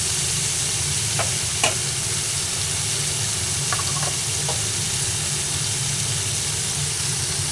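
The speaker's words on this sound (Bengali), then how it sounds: "এবার এই ভেজে নেওয়ার সময় এর মধ্যে হলুদ গুঁড়ো দিলাম" Pumpkin pieces frying in a pan with turmeric powder added, a steady close sizzle and hiss throughout, broken by a few sharp clinks of a spoon stirring.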